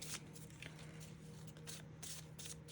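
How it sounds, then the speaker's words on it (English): Player cards from a homemade game being shuffled by hand, a series of quiet riffling bursts in an irregular rhythm, close and soft. "I'm just going to shuffle up all the player cards"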